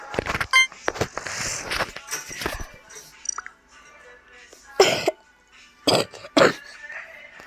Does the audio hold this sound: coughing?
yes